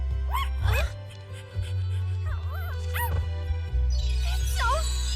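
A puppy named Melfi in an English-dubbed anime yips and whimpers in several short high bursts, close and bright, over a low steady background hum.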